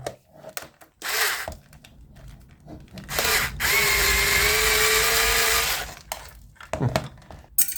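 Screws being removed with a power driver while an Arzum hair dryer is taken apart: short whirring bursts, then a longer steady high-pitched motor whine, with handling clicks and rustles between.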